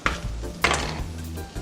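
White cabbage stir-frying in a pan for simple noodles, with soft sizzling and a couple of sharp stirring clatters, close and fairly quiet over a short moment.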